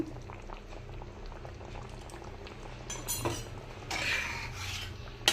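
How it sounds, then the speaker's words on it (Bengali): Whole katla fish simmering in a Bengali curry, a soft steady bubbling boil that stays low and close, with a few brief scraping or rubbing bursts partway through and no speech. "পুরো মাছটা দিয়ে দিয়েছি আর মাছটা সেদ্ধ হবে"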